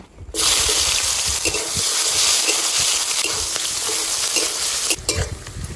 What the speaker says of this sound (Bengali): কুচানো পেঁয়াজটা একটু ভেজে নিয়েছি